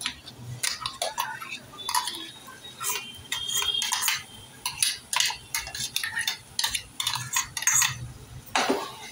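A ground masala paste being sautéed and stirred in a pan for a sprouts curry, with repeated close scraping and clinking of a spoon against metal in an uneven rhythm and a soft sizzle underneath.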